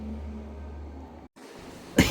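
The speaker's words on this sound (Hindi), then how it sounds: "कितना खांसते रहते हैं।" An old man coughs indoors, a short sharp burst near the end after quiet room tone and a brief silence, fairly close and moderately loud, with no talking.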